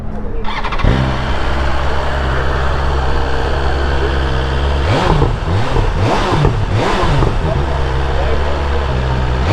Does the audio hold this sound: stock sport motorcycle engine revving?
yes